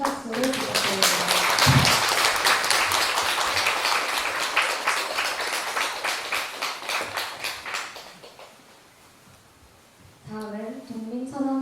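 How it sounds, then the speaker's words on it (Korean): Audience applause at a Buddhist dharma ceremony marking a meditation center's second anniversary, a dense wash of many hands clapping for about eight seconds before fading out, after which a voice speaks. "지안 선생님께 다시 한번 감사의 큰 박수를 부탁드립니다."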